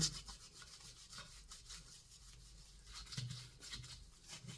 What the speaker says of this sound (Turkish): Evet, antikaları böyle parlatıyorlar arkadaşlar.